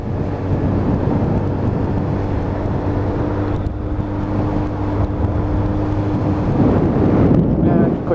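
A Lexmoto Titan motorcycle plods along at a steady 30 in cold fog on a wintry road. Its engine gives a constant low drone, buried under heavy wind rush that swells near the end.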